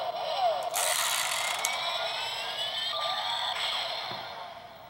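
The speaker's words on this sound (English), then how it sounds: "So we get the cool transformation noise." Boukenger Accellular toy phone plays its electronic transformation effect, a bright whooshing, swelling burst with rising sweeps and clicky mechanical textures, close and fairly loud.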